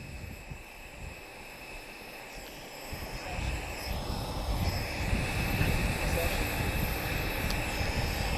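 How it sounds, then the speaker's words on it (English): Westland Lynx helicopter flying a demo at the Portugal Air Summit airshow, a broad distant engine and rotor roar that slowly grows louder and nearer, with some talk in the background. "It looks like the Lynx is coming back for another little demo."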